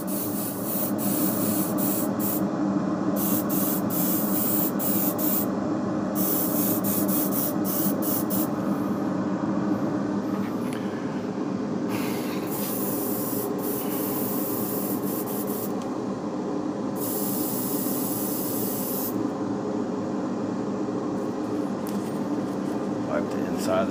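An airbrush sprays paint through a skull stencil, giving a continuous soft airy hiss that runs throughout with brief pauses and changes in pressure. Faint talk may sit beneath the spray.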